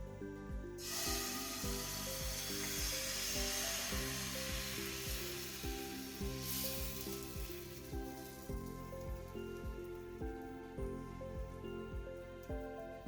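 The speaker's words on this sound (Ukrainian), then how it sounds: "Змащую розігріту пательню олією та смажу млинці." Quiet sizzling of thin kefir pancakes frying in an oiled pan, a soft steady hiss that swells briefly, with faint music playing underneath.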